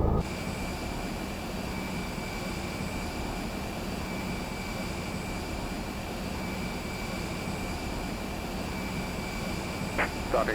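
Steady engine and ground-equipment rumble as an Airbus A320 is pushed back from the gate at an airport, a continuous loud drone with a faint high whine and a brief clunk near the end.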